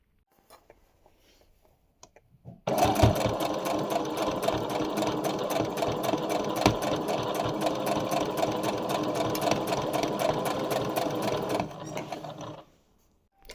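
A sewing machine stitches a wax-print fabric table mat in one loud, continuous run of rapid rhythmic needle clatter lasting about nine seconds, with a few faint clicks before it starts and silence after it stops.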